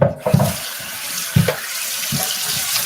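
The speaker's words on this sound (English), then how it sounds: "Okay, I'm gonna rinse this off." Kitchen sink tap running water over a raw turkey, a steady close hiss of flowing water broken by a few splashing, thumping bursts as the bird is moved under the stream.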